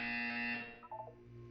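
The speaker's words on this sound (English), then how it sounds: "You will hear a buzzer." A loud, steady electronic buzzer from the video game Portal 2, a flat harmonic tone that holds for about half a second and then breaks up and fades into a lower hum.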